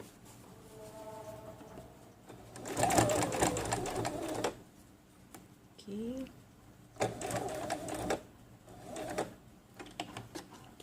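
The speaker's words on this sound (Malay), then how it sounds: "Kita jahit yang tepi ni." An electric sewing machine stitches the edge of a kurta placket in short, rapid whirring runs that start and stop repeatedly, close and clear against a quiet room.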